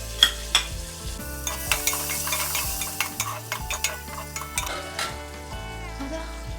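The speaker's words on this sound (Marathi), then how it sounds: "कांदा छान फ्राय झालेला आहे" Onion frying with a pinch of asafoetida in a pan for a quick pea and corn rice dish, a close steady sizzle with rhythmic spoon scrapes and taps against the pan, no speech.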